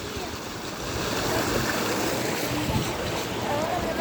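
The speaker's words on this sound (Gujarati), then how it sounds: "જોઈ લ્યો ગાઈસ, ધોધ આવે છે ડાયરેક્ટ ત્યાંથી" A waterfall pours into a deep pool in hilly terrain, giving a steady, broad rushing wash of water that stays constant and fairly loud from start to finish.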